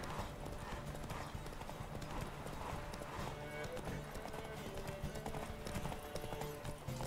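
Hooves of the horse Roach clip-clop at a steady galloping rhythm in The Witcher 3, continuous and fairly close, with someone talking over the hoofbeats.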